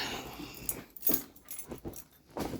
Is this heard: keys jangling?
yes